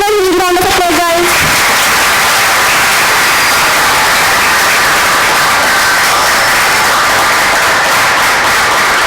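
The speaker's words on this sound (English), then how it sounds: "Give a huge round of applause, guys." Sustained audience applause filling a college workshop hall, a steady dense wash of clapping throughout after a brief tonal sound at the start.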